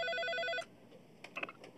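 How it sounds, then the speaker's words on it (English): A telephone rings with a rapid electronic bell trill for about half a second and then stops, followed by faint handling clicks and quiet noises nearby. "Mr. Bobcat, Mr. Adams is on the phone"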